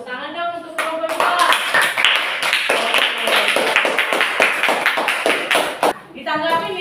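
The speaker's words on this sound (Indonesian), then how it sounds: "Tepuk tangan dong untuk kelompok 2." Classroom applause for a presenting student group, a dense burst of hand claps lasting several seconds, loud and close, with voices at the start and end.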